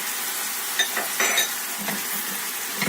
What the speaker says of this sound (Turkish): Ve güzelce karıştırıyorum.